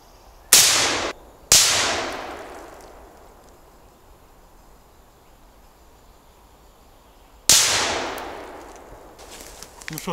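A rifle fired at a target cracks out three loud sharp shots, two close together near the start and one later, each trailing into a decaying echo over quiet outdoor ambience.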